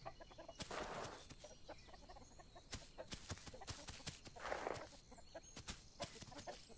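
A chicken clucks in the survival game The Isle, heard over a busy, steady ambient game soundscape with scattered sharp clicks and knocks, the fowl calls fairly faint and intermittent.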